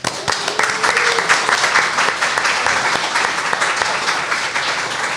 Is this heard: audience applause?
yes